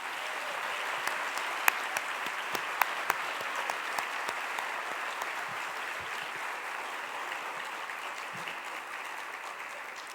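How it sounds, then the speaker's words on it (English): An audience applauds steadily in a hall at a Florida Teacher of the Year ceremony. The dense, even clapping runs for about ten seconds at moderate, slightly distant volume, with a few sharper claps standing out. "Please join me in a round of applause as thanks to Macy's."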